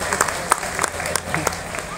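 A crowd applauds at a Hindi comedy stage show, a dense steady wash of clapping with scattered sharper claps standing out, fairly close, over a low murmur of voices.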